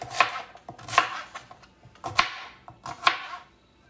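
Potatoes and sweet potatoes chopped into small bite-sized pieces on a cutting board for an African stew: about five sharp, close knife knocks in an uneven rhythm, with no talking.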